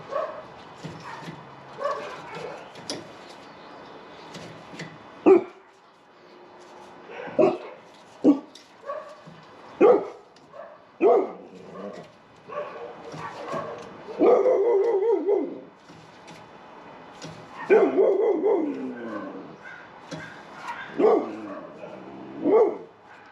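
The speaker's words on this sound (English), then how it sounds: "all the dogs in the neighborhood are barking" Several dogs bark repeatedly, sharp yaps and woofs in irregular bursts, with some whimpering and yipping between, fairly close.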